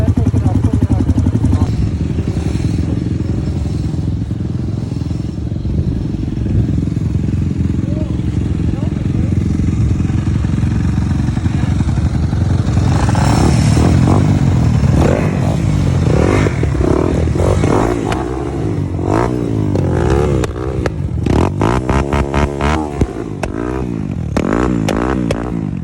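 Dirt bike riding in Toronto, the engine droning steadily and loudly, then revving in rising and falling surges toward the end, with clattering and scraping and people talking over it.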